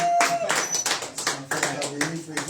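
A church congregation applauds and cheers as the pastor approaches, dense clapping and crowd voices filling a lively hall, with singing and shouts mixed throughout.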